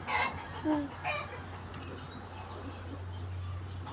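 Chickens cluck in a few short bursts early on, then a steady low hum fills the rest with faint scattered farmyard noise.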